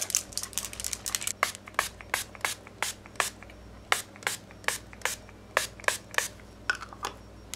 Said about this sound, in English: So I'm just going to give this a nice shake and a nice spray